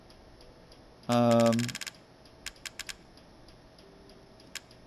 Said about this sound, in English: you're probably hearing clicking. That's probably my fan.